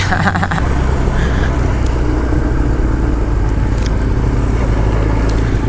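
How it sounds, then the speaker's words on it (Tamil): A Kawasaki ZX10R sport bike held in a wheelie on a coastal road ride, its engine a loud, steady drone throughout with constant road and wind rush and no clear pauses. "தூக்கிட்டான் பாருங்க. சரியான வீலி"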